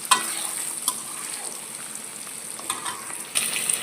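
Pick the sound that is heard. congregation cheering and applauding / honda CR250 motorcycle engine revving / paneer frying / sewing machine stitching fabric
paneer frying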